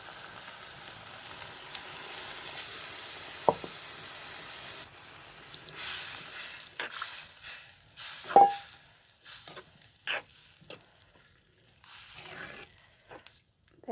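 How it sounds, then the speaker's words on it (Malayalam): Ground coconut paste with roasted chilli powder poured into a hot curry pan, a soft steady sizzle that gives way to wet stirring clatters and splashes, moderately quiet. "അപ്പം നമുക്ക് അരപ്പൊഴിച്ച് കൊടുക്കാം"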